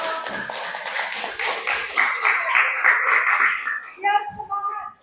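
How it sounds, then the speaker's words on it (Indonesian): Students clap for a presenting group in a junior high school classroom, a burst of scattered hand claps that thins out and gives way to voices talking near the end. "Kita beri tepuk tangan untuk kelompok audio."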